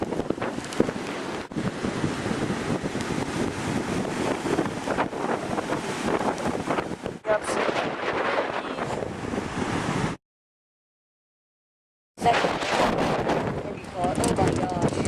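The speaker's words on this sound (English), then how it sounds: "The wind's absolutely whipping right now." Strong hurricane squall wind gusting at Galveston during Hurricane Alex, roaring and buffeting loudly against the microphone, cutting out briefly to silence and then returning.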